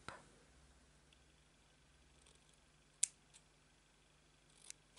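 Scissors cut during a paper craft project making a faceted gift box for Mother's Day, giving a few quiet, sharp snips spaced apart in a very hushed room, with no talk.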